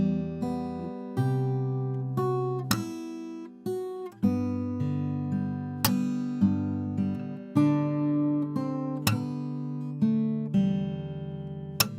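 An acoustic guitar plays the chorus of a song, with plucked notes, percussive hits and a slide to the fifth, ringing clearly and alone at moderate volume over about twelve seconds.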